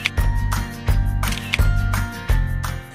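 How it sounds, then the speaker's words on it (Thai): A camera shutter fires four times in an even rhythm while food is photographed at a restaurant, each a loud, close mechanical clack with no talking. "ผมต้องขออนุญาตถ่ายรูปก่อนแชะแล้วก็แชร์นี่ครับ"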